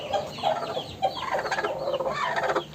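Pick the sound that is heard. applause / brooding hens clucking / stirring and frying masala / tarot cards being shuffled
brooding hens clucking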